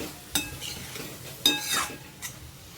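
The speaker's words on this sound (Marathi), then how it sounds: "आता सर्व आपल्याला भाजी मिक्स करून घ्यायची आहे" A spoon stirs vegetables and cooking dal in a pan, a few scraping, clinking strokes close by over a soft simmering background, with no talking.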